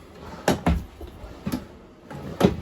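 Drawers in a 2022 Wildwood 169RSK travel trailer kitchen are slid and bumped, giving several hollow wooden knocks and thuds at uneven intervals, close and fairly loud.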